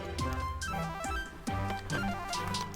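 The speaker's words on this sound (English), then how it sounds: "Hello there, phone going off." A phone ringtone goes off as a melodic electronic tune with repeated chiming notes, playing clearly and fairly close over faint background game sound.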